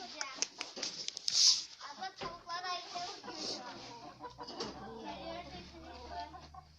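Chickens, including Brahmas, cluck and squawk nearby in a coop, with one sharp high call standing out, while people talk over them.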